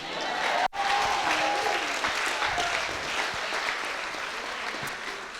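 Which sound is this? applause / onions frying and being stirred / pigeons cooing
applause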